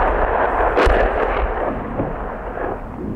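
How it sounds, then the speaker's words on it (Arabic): Rocket shelling on the town of al-Lataminah in northern Hama countryside: a sharp, loud blast near the start followed by a rolling rumble and fainter distant booms, with no voices. "قصف صاروخي على مدينة اللطان بريف حماة الشمالي"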